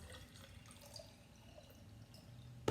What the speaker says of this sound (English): I'm gonna pour water into the jar.